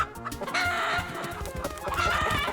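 Chickens clucking in a busy, overlapping flock, loud and close, with rising squawks and a crow-like call near the end, with no talk.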